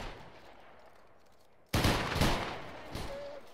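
A line of muskets fires a single volley in the game Battle Grounds III, a sudden loud crackling burst after near silence, followed by a rolling echo and scattered later shots.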